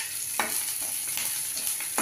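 Onion and white cumin frying in oil in a pan, a steady close sizzle with a few soft stirring scrapes spaced through the clip.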